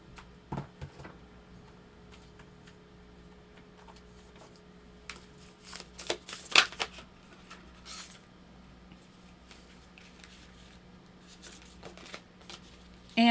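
Goddess oracle cards are shuffled in quick, dry riffling bursts and soft taps, close and quiet in a still room, with a sharper flurry midway and a faint steady hum underneath.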